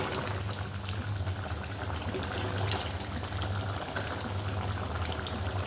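A pot of meat curry simmers steadily as its gravy reduces, giving a continuous soft bubbling and sizzling hiss with a low hum underneath, even and unbroken throughout, with no voices.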